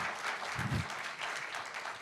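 A forum audience gives warm applause after a lecture, a steady, even patter of many hands clapping that continues for a couple of seconds.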